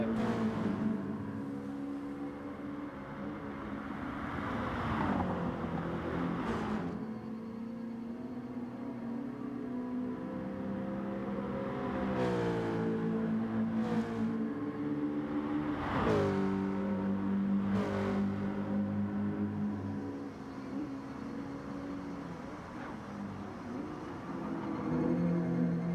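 Racing cars in a driving game rev and drone through a qualifying lap, steady engine tone rising and falling in pitch with several sharp shifts and surges, loud and continuous without talk.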